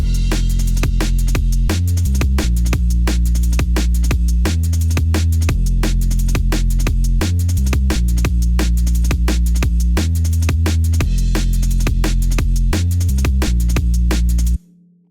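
Liquid drum and bass drums over a thick layered bassline, with fast, busy breakbeat hits and crisp cymbals driving steadily above sustained low bass notes, loud and continuous until a sudden stop.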